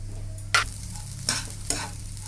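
A spoon stirs turmeric into basmati pulao in a non-stick kadhai, making three brief scraping strokes over a low, steady sizzle of frying.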